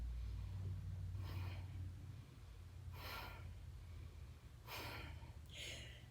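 Shallow, anxious chest breathing is demonstrated with three or four quick, airy inhales and exhales spaced a second or two apart over a low background rumble, with no talking.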